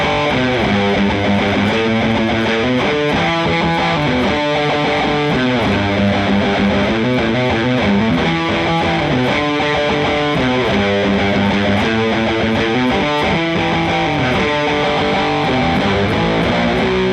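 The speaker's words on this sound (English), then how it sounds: "Fender sounds something like this." An electric guitar riff plays through an MXR Power 50 overdrive into a Fender amp: a continuous, loud, distorted run of shifting notes with steady rhythmic picking, up close and without pause.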